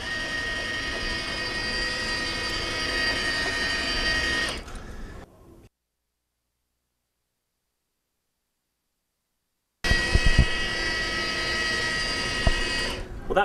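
A Rotovac 360 carpet cleaning machine whirs steadily at close range, cuts out into silence for several seconds, then starts up again at the same loud, constant running pitch.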